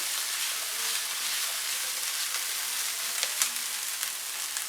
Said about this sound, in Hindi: अब इसमें आधा कप छोटे क्यूब्स में कटी शिमला मिर्च डालेंगे। इसको मैं सिर्फ 1 मिनट के लिए फ्राई करूंगी।